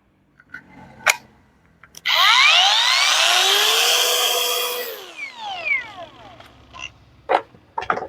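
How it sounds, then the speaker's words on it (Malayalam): A cordless angle grinder spins up with a loud, high whine that holds for about three seconds, then winds down with a falling pitch, framed by a few clicks and handling knocks. "അങ്ങനെ നമുക്ക് ഉപയോഗിക്കാവുന്ന ആംഗിൾ ഗ്രൈൻഡർ."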